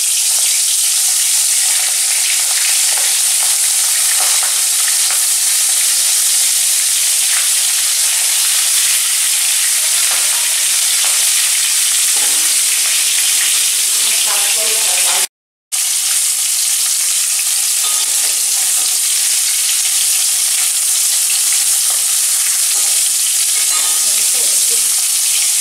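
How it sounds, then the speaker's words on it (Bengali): Giant freshwater prawns, rubbed with salt and turmeric, are added one by one to hot oil. They give a loud, steady, close sizzle that runs continuously for the whole stretch apart from one brief dropout. "গরম তেলে আমি একে একে চিংড়ি মাছগুলো দিয়ে দিলাম।"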